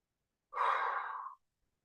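A single close exhale through the mouth in a calming breathing drill, a soft breathy whoosh of about a second against silence.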